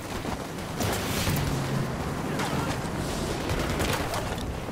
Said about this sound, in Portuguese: Não sei nem de onde tá vindo tiro